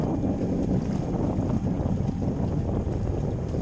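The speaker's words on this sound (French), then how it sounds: "Le vent qui arrive petit à petit." Steady, strong wind roars against the microphone on a heeling sailboat on open water, a constant loud rush with low rumble and no voices.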